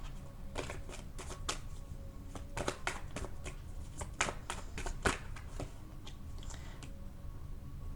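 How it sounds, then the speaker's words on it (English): Tarot cards shuffle and slide against each other, quiet crisp flicks and ticks in irregular bursts, soft and close. "let me pull another card on the Ten of Swords"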